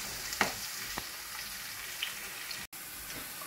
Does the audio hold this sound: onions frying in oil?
yes